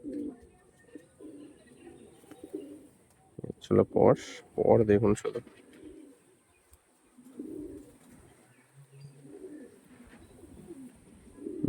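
Female Andhra Gola pigeon cooing in soft low phrases near the start and end, while someone talks over it and a burst of louder handling noise or wing flutter fills the middle.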